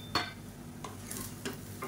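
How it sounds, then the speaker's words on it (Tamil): Cauliflower egg rice with chopped coriander stirred in a pan: a few scraping, clinking spoon strokes against the pot over a faint sizzle, with no voices. "இப்போ மேலாப்பில் பொடியாக நறுக்கின கொத்தமல்லியில் சேர்த்துட்டு ஒரு பரட்டி விட்டுக்கலாம்"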